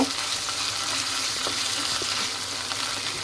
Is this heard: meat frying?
yes